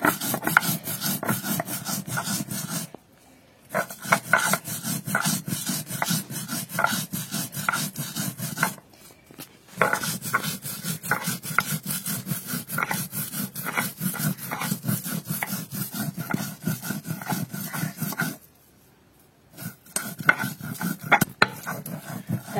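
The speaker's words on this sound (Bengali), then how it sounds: "এবার আমি বাটা করি।" Garlic and black cumin ground into paste by hand on a stone, a steady rhythmic rasping scrape repeated in long runs with a few brief pauses, close and alone.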